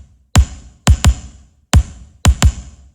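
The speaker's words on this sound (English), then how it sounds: "the kick sounds like this" A punchy 9000 kick drum sample from a Lindrum pack hits five times alone, with sharp attacks and booming low decay, the strikes grouped one, two, one, two.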